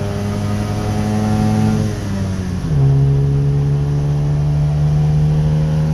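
A two-stroke car engine pulling along an open road makes a loud, steady buzzing drone that dips briefly, then settles into a new pitch like a gear change, with no talking.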